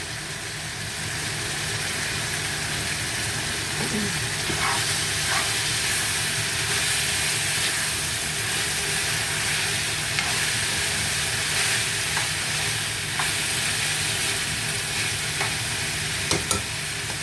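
Meat with salt, chilli, turmeric, garlic and ginger sizzles steadily in a pot, a continuous frying hiss with occasional soft scrapes and clinks from stirring.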